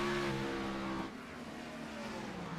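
NASCAR Xfinity Series race cars roar around Dover, a steady, loud engine drone with shifting whine as cars pass, dropping slightly in level partway through.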